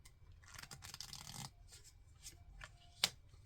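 Tarot cards being shuffled close up: a dense riffling burst of card flutter, then softer intermittent shuffles and taps, ending with a sharp single snap of cards.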